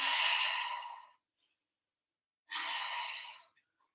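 Two long, breathy exhalations during an evening yoga flow, each lasting about a second, close and soft, separated by a quiet pause.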